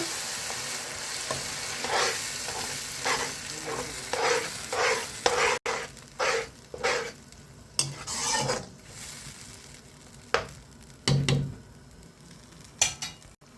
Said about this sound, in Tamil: போட்டு கிண்டி விட்டுக்கலாம் நல்லா